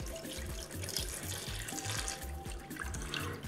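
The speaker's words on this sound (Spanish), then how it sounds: "Se cubre de agua" Tap water running into a pot of meat for a homemade Andalusian puchero stew, a steady close splashing and trickling that goes on without a break.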